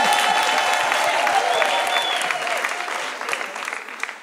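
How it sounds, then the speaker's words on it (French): Applause from a church congregation, a dense burst of clapping that is loud at first and thins slightly toward the end, with no speech over it. "Applaudissez pour lui."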